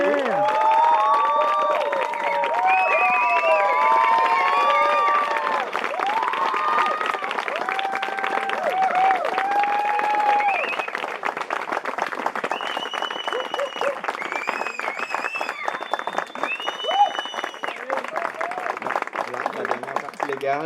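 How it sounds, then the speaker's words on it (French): Applause and cheering fill a wedding ceremony for David and Maria: steady clapping from a close crowd, with shouts and excited voices rising over it throughout and easing slightly toward the end. "je vous demande des applaudissements"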